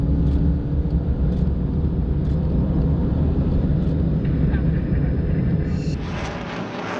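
Lockheed U-2 spy plane taking off on a runway with lead cars following, a loud steady engine roar that fades slightly toward the end.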